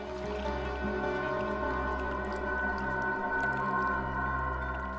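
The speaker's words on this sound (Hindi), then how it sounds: "पानी की आवाज आ रही है सर।" Water heard faintly over a phone line, a steady low rushing and gurgling with sustained tones, continuous and muffled for the whole stretch, with no one speaking.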